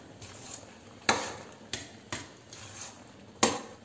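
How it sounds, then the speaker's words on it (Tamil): A metal spoon stirs cooked rice into brinjal mint gravy in a pan and knocks against the pan in about six sharp clinks at irregular intervals. Soft scraping runs between the clinks, close by, with no voices. "கொஞ்சம் கொஞ்சமாக மிக்ஸ் பண்ணிக்கோங்க."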